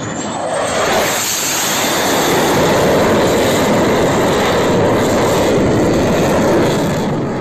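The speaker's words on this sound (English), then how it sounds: "This fighter jet has a speed equal to the speed of sound." A fighter jet roars past, a loud, sustained, broadband engine rush that builds and holds for several seconds with a sweeping tone, heard alone with no voices.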